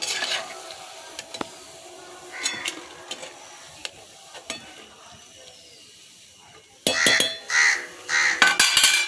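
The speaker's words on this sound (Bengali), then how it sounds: "সবগুলো আমি গুলগুলা ভেজে নিচ্ছি" Mango gulgula fritters frying in oil give a soft, steady sizzle with scattered stirring clicks, while crows caw outdoors; a louder burst of stirring and sizzling comes near the end.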